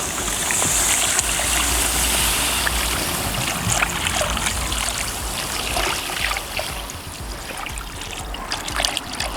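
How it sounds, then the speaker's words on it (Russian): Water poured into a cauldron of green sorrel borscht, a steady broadband trickling and splashing that runs continuously for several seconds, fairly loud and close with no talking. "Еще 3 минуты, добавляем воду."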